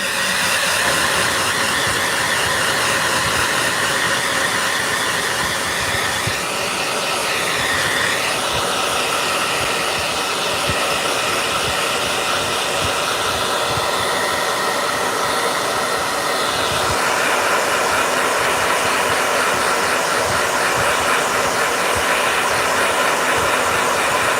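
A blow dryer runs continuously and loudly for over twenty seconds, a steady rushing hiss of air with no talk over it, used during a painting session.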